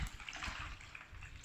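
Water pours into a pot of cleaned lotus seeds being prepared for lotus seed paste, a soft, steady splashing stream, close but fairly quiet, with no one speaking.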